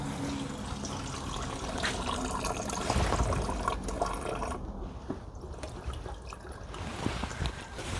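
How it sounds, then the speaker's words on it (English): Coolant dripping and trickling steadily from the battery of a Ford Focus Electric, a close, continuous wet patter with no speech. "You can see we've got coolant coming out there."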